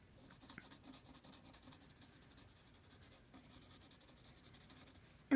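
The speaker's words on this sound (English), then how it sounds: "just kind of do like a light background with the pencil" A pencil lightly shading a gray background on paper for a drawing of an Australian shepherd, a soft continuous scratchy rubbing that runs steadily and quietly throughout, ending in a brief louder knock.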